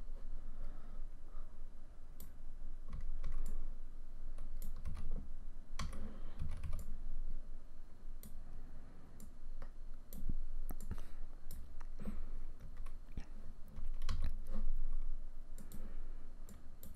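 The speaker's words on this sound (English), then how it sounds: "I'm using the bracket keys to adjust the size of the brush" Computer keyboard keys are pressed during a photo-editing session, including the bracket keys used to resize a brush: irregular bursts of close, crisp clicks and taps with short pauses between them and no voices.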